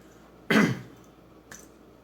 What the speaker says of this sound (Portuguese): já já eu começo a tossir.